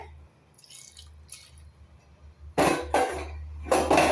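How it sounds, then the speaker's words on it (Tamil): Water splashes and pours into a pot of marinated mutton curry, a loud gushing burst in two pulses after a few quiet, faint drips. "நல்லா முங்க தண்ணி விட்டு"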